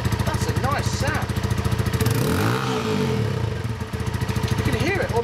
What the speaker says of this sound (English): You can hear it almost echoing inside the exhaust.